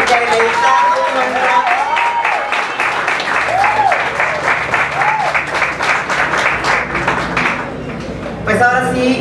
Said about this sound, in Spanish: Un fuerte aplauso a Javier